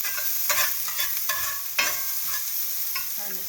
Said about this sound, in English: Stir these a little bit